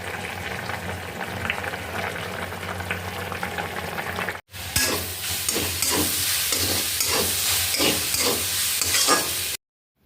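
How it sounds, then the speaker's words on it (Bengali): Leafy greens (shak) fry in a pan with a steady hiss, briefly cut off, then return louder with rhythmic scraping strokes as the greens are stirred; close and continuous, with no talking. "নিরামিষে একটা তরকারি হয়ে যাওয়ার পর শাক ভাজা বসিয়ে দিয়েছি"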